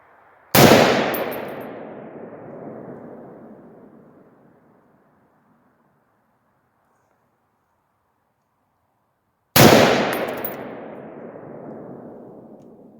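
An AR-10 Palmetto rifle with a heavier recoil spring fires two sharp, loud single shots about nine seconds apart, each followed by a long decaying echo into silence.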